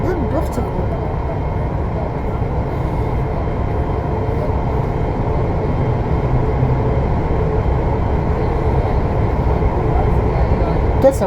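Interior ride aboard a VAL 208 NG2 automated metro train on Toulouse Line B: a steady, continuous rumble and rolling hum that holds level throughout, with faint voices underneath.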